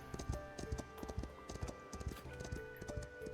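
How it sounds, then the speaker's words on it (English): Horses' hooves clip-clopping in the medieval city-building video game Foundation, a busy overlapping patter of soft hoof clops with faint tonal background music, quiet and steady. "I love the sounds of those horses."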